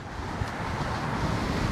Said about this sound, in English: With this headwind, I would have been screwed with a capital S.